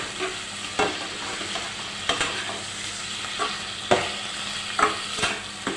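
Chicken gizzards frying in a pan while being stirred, a steady close sizzle broken by repeated scraping strokes of a utensil every second or so, with no talking.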